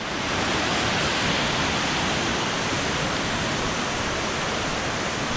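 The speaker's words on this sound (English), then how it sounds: "Looks like another little waterfall down here." A small waterfall near Guadalupe, Colombia roars in a loud, steady, close rush of falling water, unbroken throughout.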